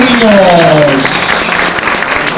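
Audience applause at a live Paraguayan music show in Buenos Aires, a loud, continuous wash of clapping with a voice briefly rising over it at the start.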